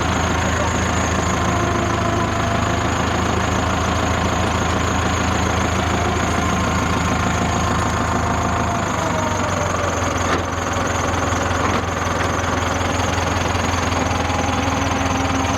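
A tractor engine at a sawmill idles at its lowest speed, a constant, loud, close mechanical rumble with a slight knock that continues throughout, while people talk nearby.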